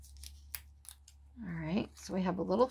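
Scissors snip out a small paper tag for a sewing-themed junk journal, giving a few quiet, close cuts before a voice begins talking.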